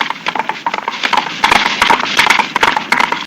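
Coconut halves banged together to imitate horse hooves, giving a loud, close, rapid clip-clop rhythm of hollow knocks that runs steadily without pause.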